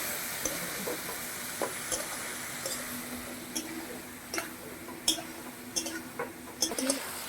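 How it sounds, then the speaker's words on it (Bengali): Spices with turmeric and a splash of water being sautéed for a koi fish curry with potato and cauliflower, a low steady sizzle under scattered spoon scrapes and clicks against the pan, with no one talking. "মশলাটা ভালো করে কষিয়ে নিচ্ছি।"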